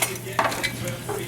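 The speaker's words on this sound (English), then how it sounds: "So I'm just going to, keep these stirred up" Onions fry in a pan for green tomato salsa, a soft sizzle with a spoon stirring and scraping against the pan, close and moderately quiet.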